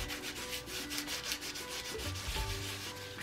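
Coarse salt is rubbed off a painting of a sea turtle in a steady back-and-forth scrubbing rhythm, gentle and close, with no voices.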